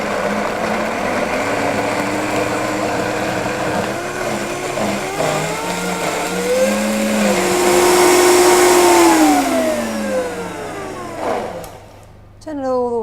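A blender runs at medium speed blending nut cheese for a chocolate orange mousse parfait, whirring loudly with a motor pitch that shifts up and down as the mixture churns, then winds down near the end, with a person talking over it.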